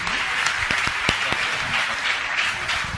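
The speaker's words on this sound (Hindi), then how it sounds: "तो एक बार जोरदार करतल ध्वनि दोनों हाथों को ऊपर उठा करके।" Enthusiastic audience applause at a religious discourse session, dense and sustained clapping from a crowd holding both hands raised, loud and even throughout with a few sharper individual claps standing out.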